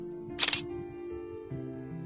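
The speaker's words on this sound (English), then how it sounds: "I heard the shutter sound of the camera in the immediate vicinity." A single crisp camera shutter click snaps out in the game SCP A Will of a Single Tale, short and bright over a quiet tonal background drone.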